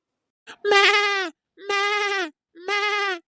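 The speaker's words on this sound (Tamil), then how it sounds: "என்ன நம்ம ஆடு கத்துற சவுண்ட் கேக்குது" A goat bleats three times, loud and close, each call a drawn-out wavering cry of about half a second to a second, separated by brief silences.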